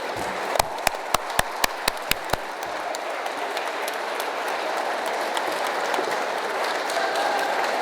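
A few sharp, close claps ring out in an even beat before a broad round of audience applause at a national newspaper awards ceremony swells and carries on steadily.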